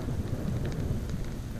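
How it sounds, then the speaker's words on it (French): Low thunder rumbling outdoors in changeable weather during a landscape photography outing, a dull continuous roll mixed with rain or wind noise, with no voices. "Un petit tonnerre aussi."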